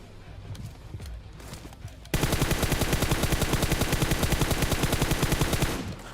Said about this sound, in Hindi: अब यार मैं ना यहाँ पे फायर करता हूँ